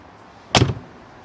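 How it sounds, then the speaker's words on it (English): A single solid door slam from a 2024 Mercedes-AMG G63 4x4 Squared, close and loud, with a brief thud then quiet. "We need to slam these doors properly."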